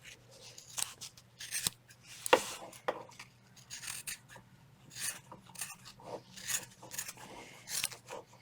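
Scissors snip and rasp through fabric in a series of close, irregular cuts, each a short crunchy slice with brief pauses between.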